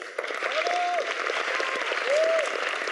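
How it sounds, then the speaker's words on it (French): An audience applauds at a customer relations award ceremony, with a steady wash of clapping running under a couple of brief sliding tones. "Donc bravo à Free, on l'applaudit encore"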